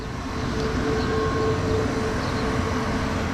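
In a parked 2019 Honda Clarity plug-in hybrid with the engine off, the air conditioning runs as a steady, fairly loud broadband whir and rumble with a faint tonal hum, unchanging throughout.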